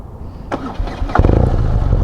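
A BMW R nineT Urban GS motorcycle engine cranks with a short starter whir, then catches and settles into a loud, close, pulsing idle.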